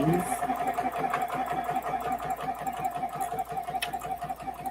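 A sewing machine stitches with white thread in a close, steady, rhythmic hum of rapid needle strokes, running continuously throughout while a voice talks over it.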